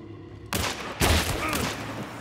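Two heavy gunshots from the PAX True Shot in the game Hunt: Showdown, each a sharp loud blast with a booming tail, fired about half a second apart and close.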